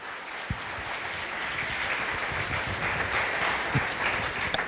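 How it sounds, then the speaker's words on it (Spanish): Audience at a municipal public accountability hearing gives a steady, moderately loud round of applause for local athletes, with a few sharper thumps standing out from the continuous clapping. "Un fuerte aplauso, por favor."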